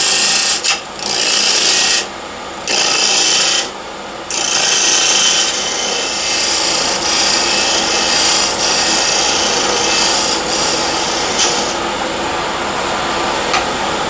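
A skew chisel cuts hornbeam spinning on a lathe at around 1750 rpm, giving a loud continuous scraping hiss broken by a few brief gaps as the tool lifts off and re-enters the wood.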